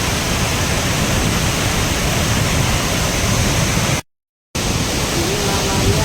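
Steady roaring rush of falling water, loud and continuous from the nearby Telunjuk Raung waterfall in Banyuwangi, East Java, in strong wind, with a brief dropout near the end.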